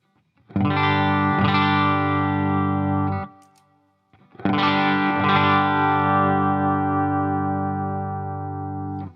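Two long sustained chords on a Reverend Warhawk electric guitar through a Line 6 Helix overdrive and Quilter 101 Mini Reverb amp, crunchy, each strummed and left ringing, the second fading slowly.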